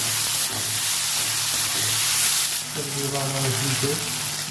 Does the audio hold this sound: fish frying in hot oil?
yes